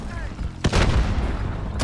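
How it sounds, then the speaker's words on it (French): A grenade explosion in a Call of Duty Modern Warfare 2v2 match: a sudden loud boom bursts out partway through and rumbles on, with a second sharp blast near the end, over steady game background noise. "Essayez de balancer une petite grenade"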